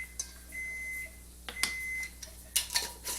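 A kitchen oven signals it has reached its preheat temperature with two steady electronic beeps, each about half a second long, sounding at moderate volume amid quiet room tone, with a few sharp clatters and clicks from nearby utensils.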